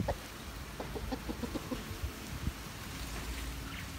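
Young chickens cluck in a series of soft, quick calls at a distance on a hot afternoon, over a faint hissing background.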